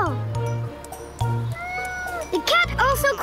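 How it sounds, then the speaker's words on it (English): A cartoon cat meows repeatedly at a city crosswalk in a children's nursery-rhyme animation, several rising and falling meows over a low hum and short musical tones. "The cat wants to cross as well."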